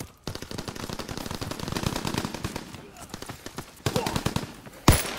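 Rapid bursts of automatic gunfire from a loud gun in Call of Duty WW2, rattling almost continuously for several seconds with brief pauses and a sharp final shot, under a player's talk.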